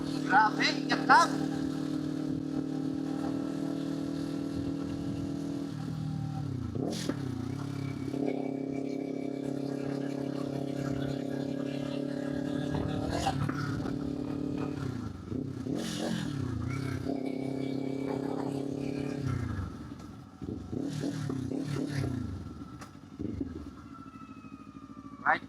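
Motorcycle engine running steadily while riding toward a gas station, a continuous droning hum with shifting pitch as it revs and changes speed, close and loud throughout with occasional scraping clatter.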